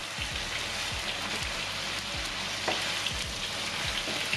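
Tofu sizzles and crackles steadily in a hot pan, with a crisp, rain-like hiss and occasional soft pops, close by and without talking.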